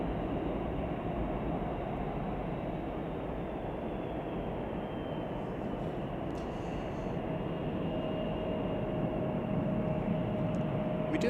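United airliner taxiing at Chicago O'Hare Airport, a steady, continuous engine roar and rumble at moderate distance, with a faint whine rising near the end.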